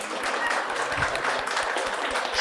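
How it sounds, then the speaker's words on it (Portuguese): An audience at a lecture on child and adolescent development breaks into steady applause, many hands clapping evenly at moderate loudness with a few voices faintly underneath. "uma salva de palmas"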